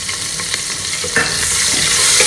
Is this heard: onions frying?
yes